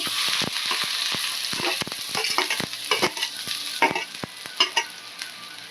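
Oil sizzles steadily as chopped onion fries in an iron pan, while irregular scraping and stirring knocks break in, close and fairly loud.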